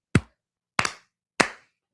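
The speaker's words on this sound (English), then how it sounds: "Slow clap." Three single hand claps, evenly spaced and deliberate, each sharp and close with a quick decay into silence.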